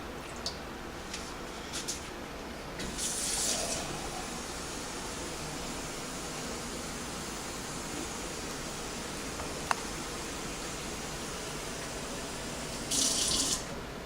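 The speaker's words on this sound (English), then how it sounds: "I'm going to fill this up with water" Water poured steadily into a pan to make a water bath for a cheesecake, a soft continuous trickling wash that holds at a constant level throughout with no talk.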